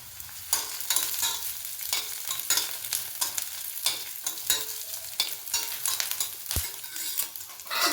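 Garlic and tamarind roasting in a pan, with close, steady frying crackle and repeated scraping strokes of a stirring spoon, one sharp knock near the end.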